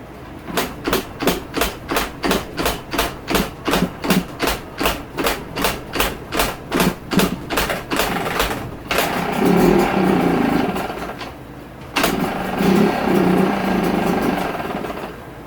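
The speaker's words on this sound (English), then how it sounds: "we're going to give her a test fire" A Yamaha YZ125 two-stroke dirt bike is kicked over in a quick rhythmic series of sharp strokes, then fires and runs in a loud raspy idle, briefly cutting out before catching again.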